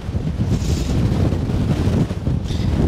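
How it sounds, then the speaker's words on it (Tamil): Strong wind at the Blue Lagoon, Abereiddi, buffets the microphone in a loud, continuous roaring rumble that surges and dips briefly without letting up. "காற்று பார்த்திங்கன்னா பயங்கரமாக அடிக்குது, செம்மையாக அடிக்குது"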